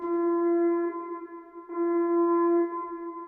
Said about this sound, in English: Then at the end here, there's also these rings that I added. It's just a phone ringing.